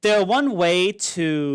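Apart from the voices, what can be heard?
No distinct noise like a dog, phone or traffic.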